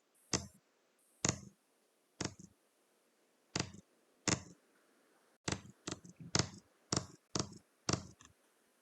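Sharp, isolated mouse clicks while working on a web page, a few spaced single clicks followed by a quicker cluster of clicks, close and crisp with quiet gaps between.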